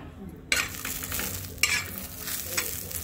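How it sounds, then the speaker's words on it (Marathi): Green chillies roasting in hot oil in a pan for brinjal bharta, a continuous sizzle broken by a few sharp stirring scrapes, close and alone with no talking. "मिरच्या भाजून घ्यायच्या बघा"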